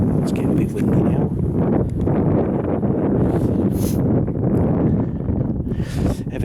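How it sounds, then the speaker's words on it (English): Gusty wind buffets a microphone outdoors near a castle site and ditches, a loud continuous rumbling roar that persists throughout, with a person talking over it. "It's getting a bit windy now."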